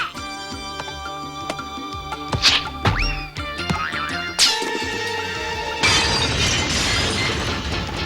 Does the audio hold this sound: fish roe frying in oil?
no